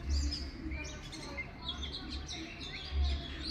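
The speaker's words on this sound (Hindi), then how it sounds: "एक बाहर से कबूतर इसे बुला रही है" A pigeon calls from outside a balcony net to another pigeon trapped inside, giving soft repeated chirps and coos, with faint background noise and a voice underneath.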